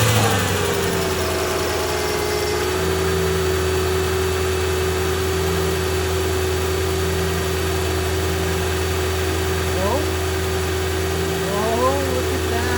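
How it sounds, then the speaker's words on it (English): A car with ABC suspension and a newly fitted magnetic filter, started and left idling with a steady low hum close by; faint whirring tones rise near the end. "Let's start the car and make sure there's fluid running through that."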